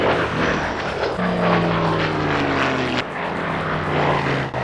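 An F8F Bearcat propeller fighter at the Oshkosh airshow roars past, its piston engine drone shifting downward in pitch as it passes, loud and continuous with a brief dip midway.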